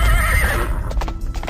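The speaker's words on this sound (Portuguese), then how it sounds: "O cavalo avançou, furioso," A furious horse charges forward in a dramatized audio Bible reading, a loud close whinny over quick clip-clopping hooves in a brief burst.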